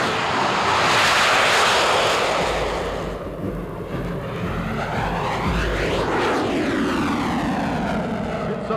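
US Air Force Thunderbirds F-16 jet roars loud and close, its engine noise swelling, then a sweeping whine as the jet passes by, with no talking over it.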